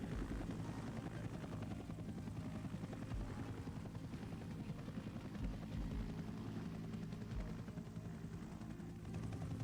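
Huey helicopters of the Air Cavalry arrive at a Vietnam landing zone, their rotors giving a steady, heavy thudding drone that stays constant and fairly distant throughout, with no voices.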